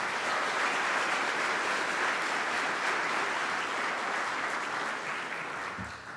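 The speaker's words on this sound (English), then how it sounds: "Let's give them a round of applause." A conference audience applauds in a dense, steady roar of clapping that holds loud for several seconds and then tapers slightly toward the end.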